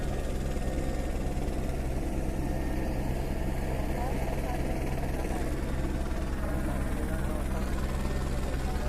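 A steady, loud helicopter drone with rhythmic rotor thumping, continuous and close throughout, with no letup, at Honolulu airport.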